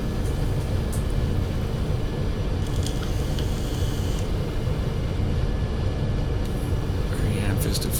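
Steady broadband roar of MD-80 jet engines pulled back to reduced power in a flight simulator, a continuous droning rumble with faint intermittent clicks, with no let-up across the stretch.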